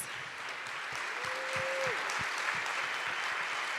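Steady applause from an audience at a university alumni awards ceremony, honoring the award winners; the dense, even clapping fills the whole stretch, and a faint tone runs briefly through the middle.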